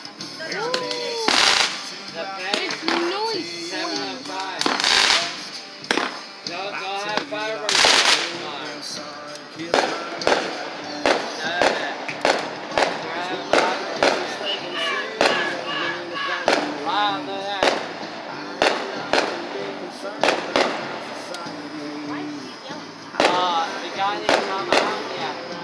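Fireworks go off outdoors in a live display, with sharp cracking bangs and rapid bursts of popping throughout and people talking in between and over them.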